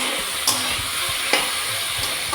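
Malabar spinach with small shrimp fries in a pan, giving a steady, close sizzle while a spatula stirs with brief scraping accents every second or so.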